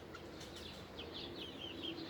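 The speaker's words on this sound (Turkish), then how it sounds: "Yerli tavuklarımız arkadaşlar." Several local-breed chickens clucking and chattering at moderate distance in a coop, overlapping soft calls against a constant background hum, with no talking.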